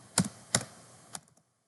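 Computer keyboard keys being pressed while typing code: three or four separate keystrokes at close range, spaced apart, with quiet between them and no talking.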